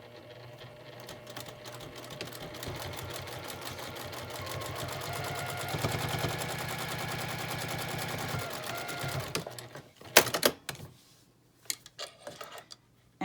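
A sewing machine runs steadily for about nine seconds, stitching down the top of a fabric needle book, then stops, followed by a few sharp clicks and handling knocks.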